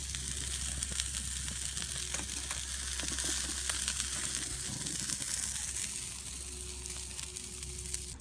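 Burgers sizzle on a grill over a spread-out campfire at a woodland camp, a steady close hiss and crackle running throughout with a low rumble beneath.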